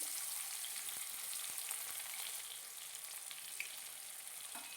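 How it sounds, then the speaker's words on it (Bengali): Chopped onions frying in a pan with chilli, cumin and nigella seeds for a hilsa-head taro-leaf dish, a soft, continuous hiss of sizzling with faint occasional stirring ticks, fairly quiet and without voices. "এবার আমি দিয়ে দেব কুচিয়ে রাখা পেঁয়াজ।"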